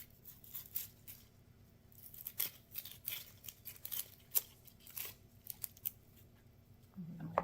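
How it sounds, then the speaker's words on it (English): Papery skin torn and peeled by hand from a white onion, giving faint, dry crackling and tearing rustles in short irregular bursts close by. "And I'm going to take the skin off."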